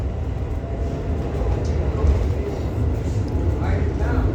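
Train running with a steady low rumble and broadband rolling noise throughout, heard from inside a carriage, with faint voices in the background.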